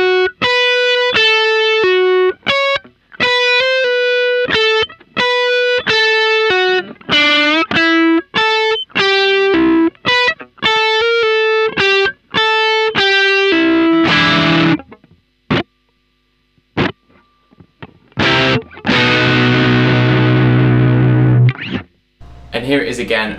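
A distorted electric guitar plays a blues turnaround lick slowly, note by note with short gaps, then rings out on a final sustained chord.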